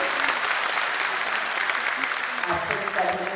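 Loud, dense applause from an audience at a government inauguration and foundation-stone ceremony in Bihar, a sustained wash of clapping with some crowd voices mixed in.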